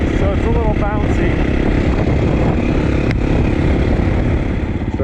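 A 450 dirt bike fitted with a wide-ratio six-speed gearbox runs steadily and loudly up close, a continuous engine drone with shifting tones and slightly bouncy running from unbalanced wheels, a voice speaking over it.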